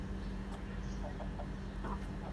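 A restless Aseel-breed rooster clucks in a few short, soft bursts over a steady low hum, fairly close but not loud.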